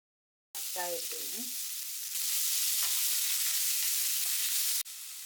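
Onion frying in oil for egg bhurji, a steady close sizzle that starts abruptly with a brief clatter of stirring, then holds a bright, even hiss that grows slightly louder before dropping back.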